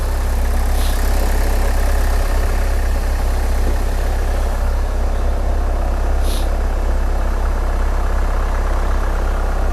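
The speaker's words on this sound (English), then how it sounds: "All right, the car is running." A 2013 Hyundai Santa Fe diesel engine idles with a loud, steady low rumble and even mechanical clatter that runs unbroken from start to finish.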